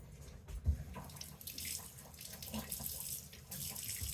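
Tap water runs steadily over scallions in a sink, a continuous close splashing rush with small splatter variations throughout, and no talking.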